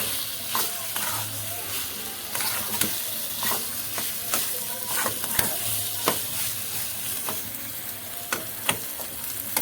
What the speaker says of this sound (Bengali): ভালো করে কষাই।